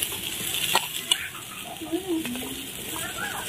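Papaya pieces hitting a hot pan and sizzling as they fry alongside red potatoes and beans, a steady close crackle with stirring scrapes.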